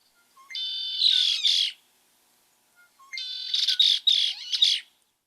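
Two bursts of bird song, each a rising whistled phrase overlapped by dense, scratchy chattering calls, as a female's song piles over a male's; close and clear against silence, with a short pause between them.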